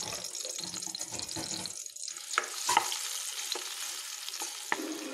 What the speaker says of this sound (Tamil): நேந்திரப்பழத்தை கொஞ்சம் தேங்காய் எண்ணெயில் நல்லா வணக்கி விட்டுலாம்.